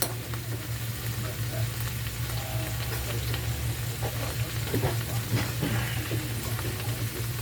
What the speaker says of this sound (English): Mix those all up. Okay. Cook another couple minutes.